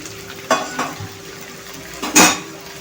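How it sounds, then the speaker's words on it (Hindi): Spice mix is tipped into fried potatoes for masala aloo, bringing a soft sizzle and a few clinks and scrapes of a spoon against the pan, then one louder clattering stir near the end, with no talking. "ये पूरा मसाला इसमें डाल देंगे"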